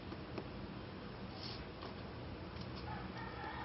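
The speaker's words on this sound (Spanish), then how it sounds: "porque casi siempre que estoy grabando hay un gallo de fondo." A rooster crows faintly in the distance, under steady background noise in a home room, with no talking during the clip.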